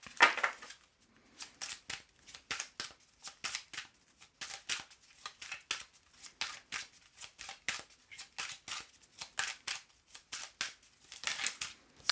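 Deck of oracle cards shuffled by hand, a long run of quick crisp riffling bursts in steady rhythm, close and clear with no talking.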